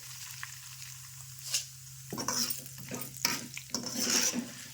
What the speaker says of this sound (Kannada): ಅವಲಕ್ಕಿ ಹಾಕೊಂಡ ಫ್ರೈ ಮಾಡ್ಕೊಂಡು ತಗೊಳ್ರಿ